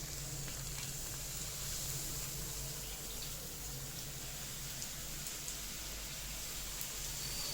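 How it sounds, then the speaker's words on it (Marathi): Shankarpali dough pieces, diamond and square shapes, deep-frying in hot oil over a medium-low flame, giving a steady, even sizzle and crackle that runs unbroken throughout with no speech over it. "तेल तापल्यानंतर गॅस मिडियम टू लो करायचा आणि चांगले खरपूस असं लालसर कलरच्या करून तळून घ्यायचं"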